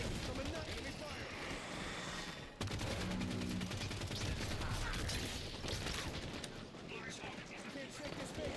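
Rapid enemy gunfire crackles through a Halo match as a steady, dense volley, with a voice talking over much of the shooting.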